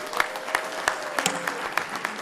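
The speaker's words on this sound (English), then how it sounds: "can we get a round of applause" A modest audience claps, sparse and uneven, with a few distinct sharp claps standing out over the steady patter.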